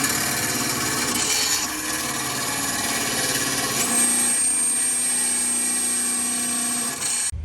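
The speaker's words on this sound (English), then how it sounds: "I guess that's a grinder on a drill." A grinder attachment on a drill grinds a steel swivel-seat handle with a steady, continuous abrasive rubbing whine that runs the whole time, shifting slightly in pitch partway through, with no talking.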